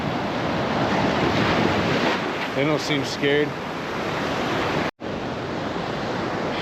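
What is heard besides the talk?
ocean waves breaking on Myrtle Beach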